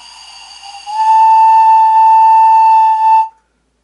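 One sustained pan flute note starts breathy and airy, then settles into a clear, bright, steady tone held for about two seconds before stopping; close and loud.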